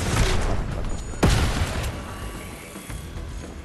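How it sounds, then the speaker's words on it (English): Explosions in Fortnite, a sharp loud boom with a rumbling tail over steady background noise, one main blast and fainter pops after it. "Explosions."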